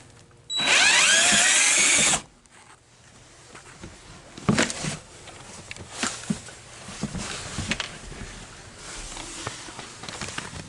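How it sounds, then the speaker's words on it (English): A rear seat bolt comes out of a 2001 Mustang Cobra with a 10mm socket: one loud burst of power-driven whirring nearly two seconds long, then scattered close clicks, knocks and handling noises. "you're actually going to need a 10mm socket, and then there's bolts on the end here"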